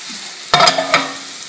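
Broccoli tossed in a hot sauté pan gives two quick loud sizzling rattles, a short burst then a second toss, over a low steady hiss.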